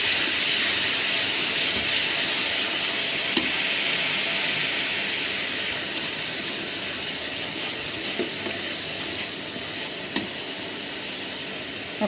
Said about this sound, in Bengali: মশলাটা আমি ভালো করে কষাবো।